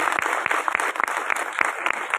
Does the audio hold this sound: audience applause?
yes